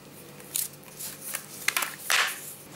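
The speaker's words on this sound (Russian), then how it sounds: "Так, ну и остатки мы отрезаем." Scissors snip off leftover material while sowing leek seeds in a rolled seedling strip, giving a few short, close cutting and rustling sounds spread over a quiet background.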